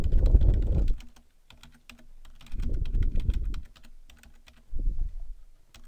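Typing on a computer keyboard to enter a message, with bursts of quick, close key clicks separated by short pauses.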